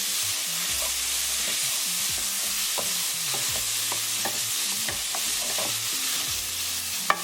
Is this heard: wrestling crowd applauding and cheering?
no